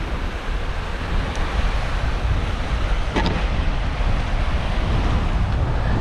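Steady, rough wind buffets the microphone in a constant roar, with no voices, only the broad rush of gusts on the bank of the River Humber.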